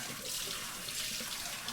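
Water runs steadily from a home shower, a faint, even hiss with no voices.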